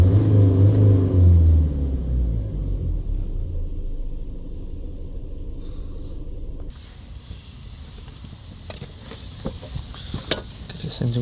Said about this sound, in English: Let's give that a little bit of a rev.